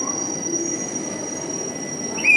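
Hussain Sagar Express braking to a stop at a station, a steady rolling rumble with a high metallic squeal of wheels rising at the very end, no voices.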